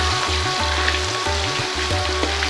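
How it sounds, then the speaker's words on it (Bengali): Batch of rohu fish pieces frying in oil in a kadai, a continuous close sizzle with a rhythmic low pulsing hum underneath throughout, no voices. "দ্বিতীয় ব্যাচ মাছ ভাজতে সময় লাগে না"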